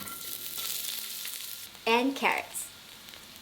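Onion and carrots stir-frying in avocado oil in a wok over high heat, a constant crackling sizzle that a brief spoken phrase cuts through partway.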